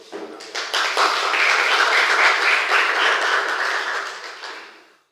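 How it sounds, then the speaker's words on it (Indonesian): An audience at a seminar bursts into applause, a full, steady round of clapping that builds quickly, holds evenly for several seconds, then fades out and stops. "Tepuk tangan dulu"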